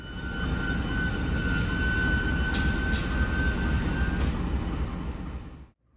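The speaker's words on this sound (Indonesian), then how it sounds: "Sekarang posisi loko sudah mendekati rangkaian kereta Kuto Jaya Selatan." A class 203 diesel locomotive rumbles steadily close by as it approaches train carriages, a loud continuous engine drone with a faint whine and a few metallic clicks, then cuts off abruptly.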